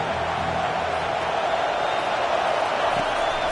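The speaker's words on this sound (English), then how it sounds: "This crowd bringing an ear-splitting welcome to their visitors." A stadium crowd in a football video game roars in a steady, dense wash of cheering that holds at an even, loud level from start to finish.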